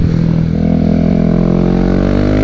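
A 2022 KTM RC 390 prototype track bike's single-cylinder engine revs loudly and close, a dense rising mechanical roar with rapid pulsing that holds steady and strong throughout, no voices over it.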